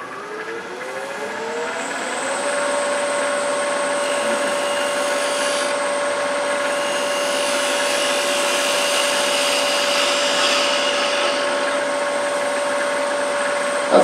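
A spindle gouge with a fingernail grind cuts wood on a lathe while a threaded box is turned, a loud steady whine with a constant hum and a rough hiss from the cutting.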